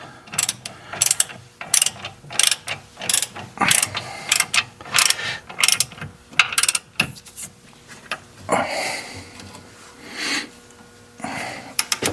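A ratcheting torque wrench tightens a steering knuckle bolt on a 2006 Toyota Matrix, giving loud bursts of rapid clicking in repeated strokes with short pauses between, close up and with no talking.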